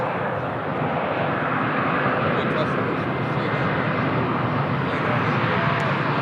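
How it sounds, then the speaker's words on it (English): An Airbus A321neo long range arrives at Lisbon Airport from London Heathrow, its steady broadband jet rumble continuous throughout as someone talks over it. "We have an LER, Airbus A321neo, long range, LER, vinda de Heathrow, Londres"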